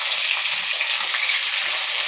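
Freshly cut potatoes hiss and sizzle loudly in hot oil in a pan, a dense continuous crackle close by with no voices.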